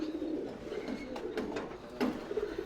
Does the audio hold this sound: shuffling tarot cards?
no